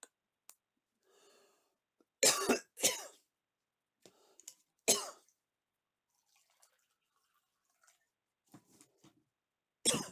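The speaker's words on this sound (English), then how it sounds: "I really need to cough, so I'm going to try muting my mic." Muffled coughs and throat clearing, close and fairly loud, come in short bursts near the start and middle with quieter rustles between and one more burst at the end. No speech.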